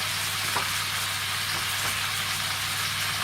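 Venison pieces browning in a frying pan, giving a steady, close sizzle and crackle of hot fat throughout with a low hum beneath and no talking.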